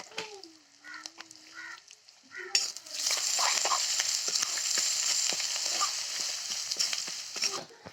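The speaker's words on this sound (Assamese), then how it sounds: "এইখিনি তেলতে ধুনীয়াকৈ ভাজি ল'ম" Spices frying in oil, sizzling and crackling loudly and steadily after a brief quieter start, with occasional stirring clicks and no talking.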